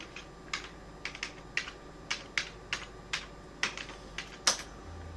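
Keys on a computer keyboard clack one at a time in a steady, unhurried run, a dozen or so crisp close taps entering a password over a faint background hum, with no talking.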